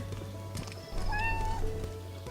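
A cat gives one clear, drawn-out meow, rising then falling, close by on a town street in Pereiaslav, over a low steady background hum.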